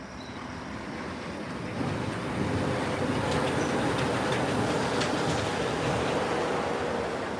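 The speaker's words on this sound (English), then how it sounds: "Monorail." A monorail passes during an outdoor stroll, a steady broadband rumble and rolling rush that swells after the first couple of seconds and holds loud and close to the end, with no talk over it.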